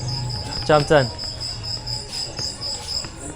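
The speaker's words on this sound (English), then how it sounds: "It's a cricket inside." A cricket chirps indoors in a parked 40-year-old Mercedes van somewhere in Africa, two sharp close bursts early on and fainter chirps after, with a brief spoken word nearby.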